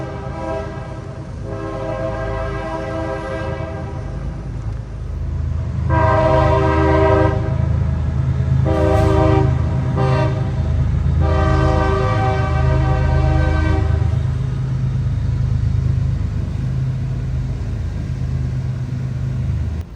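A train rumbles steadily nearby in Opelika, Alabama, for the whole stretch while its horn sounds in several long blasts, some short and clipped, some held for a few seconds.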